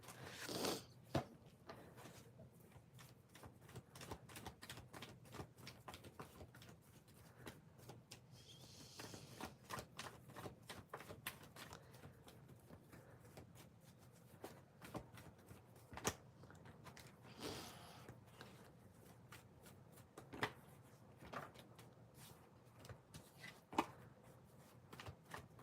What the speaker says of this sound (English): Let me shuffle these cards